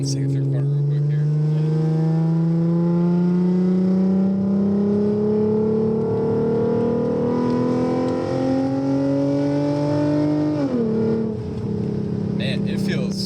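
A modified Lexus IS350 with a tuned exhaust and high-flow intake filter accelerates through a corner, its engine note rising steadily from inside the cabin before a brief dip as it lets off, then continuing.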